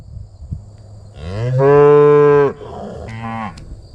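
A cow lets out a loud, drawn-out moo nearby on a ranch pasture, followed by a shorter, quieter second moo.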